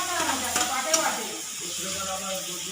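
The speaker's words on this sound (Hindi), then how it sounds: "यहाँ देख सकते हो अब डालवे में टमाटर।" Chopped tomatoes hit a hot pan of jimikand (elephant foot yam) curry in a Chhattisgarhi kitchen, giving a bright, broad sizzle with a few stirring scrapes that settles into a steady fry, while a voice speaks over it.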